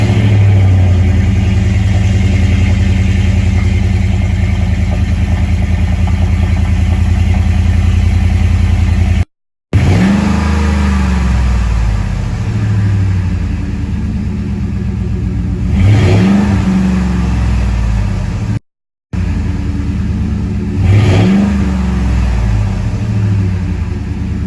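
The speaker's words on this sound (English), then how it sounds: "This is how the truck sounds on stock exhaust." A first-generation Ford Raptor pickup on its stock exhaust idles with a steady, fairly quiet rumble, then revs several times in short bursts that rise and fall, with a couple of brief cutouts and no talking.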